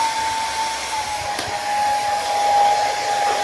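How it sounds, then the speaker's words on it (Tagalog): A hair dryer blows steadily and loudly at close range while drying a baby after a bath, a constant whirring roar with a fixed whine running throughout. "Ayan, bablower na po natin siya with supply."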